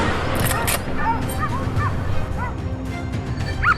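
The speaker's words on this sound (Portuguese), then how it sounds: "os cães voltaram a latir freneticamente" Hunting dogs bark frantically at night during a wild boar hunt, with rapid overlapping barks, yips and whimpers nearby, mixed with people talking over the commotion.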